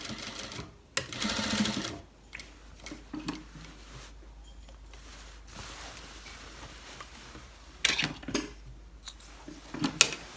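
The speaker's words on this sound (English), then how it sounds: "Then I sew it on with 1/4 inch seam allowance." A sewing machine stitching a pant leg holder onto cargo pants, with short bursts of rapid mechanical whirring separated by quiet pauses and light handling clicks, close and fairly soft.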